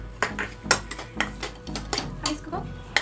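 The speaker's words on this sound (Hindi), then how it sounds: "अब हम बूरा डाल देंगे और इसमें अच्छे से मिक्स कर लेंगे।" A spoon scrapes and clinks against a pot as sugar, cashews and almonds are stirred into a green gram ladoo mixture, with repeated knocks at an uneven rhythm over a soft background.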